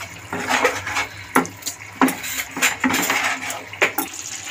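A spoon stirs Bengali fish curry (bele macher jhal) in a metal pot, giving a string of clinks and scrapes against the pot with some wet, liquid movement, close and clear, with no voices.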